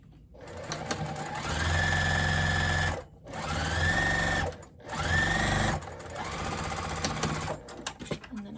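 A sewing machine stitches a fabric bowl cozy in steady, whirring runs. Three long bursts of stitching are separated by short pauses, followed by a quieter, uneven stretch with small clicks.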